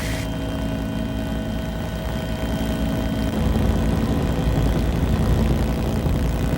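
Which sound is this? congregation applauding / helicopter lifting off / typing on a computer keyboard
helicopter lifting off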